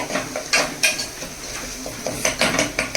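A spoon scrapes and clatters steadily through a bowl as coriander is mixed into a thick dal batter, with rhythmic, close, fairly loud knocks and stirring.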